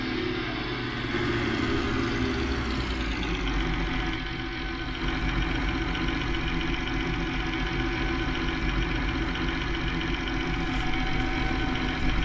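An IMT tractor engine with audible exhaust in Farming Simulator 19 holds a steady low idle throughout, a constant rumbling drone with slight revving variation and no speech.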